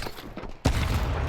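A single sharp gunshot in an esports match of a tactical shooter, a sudden loud crack followed by a sustained rumbling tail, alone without talk.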